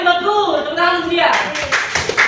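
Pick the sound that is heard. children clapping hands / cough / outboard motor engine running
children clapping hands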